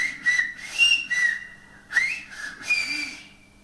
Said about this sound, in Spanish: no me extraña porque ahora van a oír esos silbos